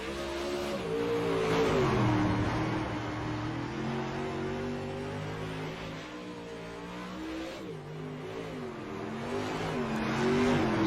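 A dirt race car in the iRacing sim drones through a corner, its engine note rising and falling steadily with throttle over a continuous rumble, close and unbroken throughout.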